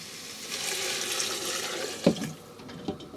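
Broth pours into a chowder pot of flour, carrots and potatoes, a steady watery splash and gurgle that swells briefly near the end, with a clunk from the pot and no talking.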